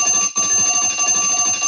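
A buzzer blares on a sports radio show, a loud, sustained electronic tone that cuts out briefly near the start and then carries on steadily, with no talk over it.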